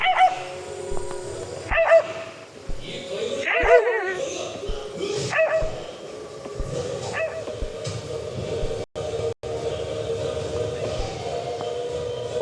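A dog yelps and barks in short bursts, mixed with high whimpers and whines, fairly close, alongside background noise and occasional voices.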